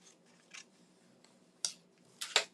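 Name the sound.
cutting paper with scissors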